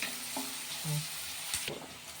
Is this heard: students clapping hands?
no